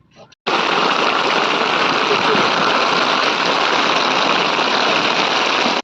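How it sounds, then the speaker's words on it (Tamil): Heavy rainy-season rain pours down as a loud, dense, continuous hiss that starts abruptly and holds steady before cutting off at the end. "இந்த டைமில் எப்படி மழை பெய்யுதுன்னு பாருங்கள்"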